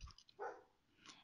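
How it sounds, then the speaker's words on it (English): A neighbour's dog gives a single short bark, faint and distant, in an otherwise quiet indoor room. "It's a dog of my neighbor's."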